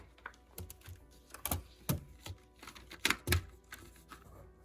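Paper being loaded into a full-page braille slate, with a series of close, soft clicks, taps and rustles of the paper and the metal or plastic slate frame, irregular and fairly quiet.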